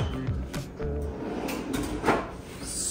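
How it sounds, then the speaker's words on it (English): A soft-close kitchen drawer slides shut in a kitchen with quartz countertops, making brief, muffled thuds and rubbing over a low room background. "Soft closed drawers, stainless steel appliances."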